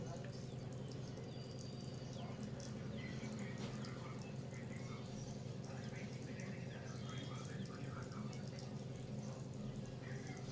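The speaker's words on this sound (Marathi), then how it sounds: "पाणी उकळायला सुरुवात होते." A low, steady bubbling and rushing of water boiling in a pot, fairly quiet and unbroken for the whole stretch.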